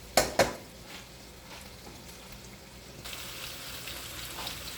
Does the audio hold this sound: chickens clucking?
no